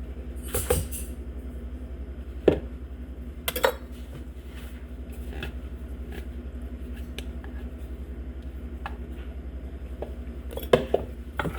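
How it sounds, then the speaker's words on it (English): Wet ingredients for high-protein gluten-free chocolate chip cookies go into a bowl of pre-mixed dry ingredients, with a few sharp clinks of a utensil against the bowl over a low steady background hum. "I'm going to put my wet ingredients into my bowl with my pre-mixed dry ingredients"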